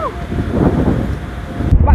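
Strong wind gusts roar across an open kite-flying field, a continuous loud buffeting rush that rumbles against the microphone throughout, with no voices.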